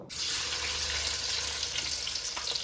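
Hot oil heating in a pan gives off a steady, dense close sizzle that fills the whole short stretch without pause.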